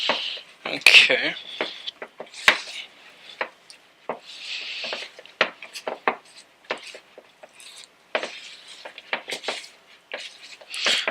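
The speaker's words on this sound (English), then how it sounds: "What we're going to do is stir that up so it's all nice and gooey" A spoon stirs thick peanut butter cookie dough in a bowl, giving irregular soft scrapes and sticky squishing bursts between stretches of a person talking nearby.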